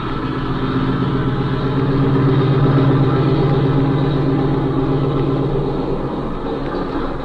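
Seaplane engine droning steadily as the aircraft taxis across water toward a shed, a continuous mid-pitched motor hum at close range with no voices, from a 1932 radio serial sound effect.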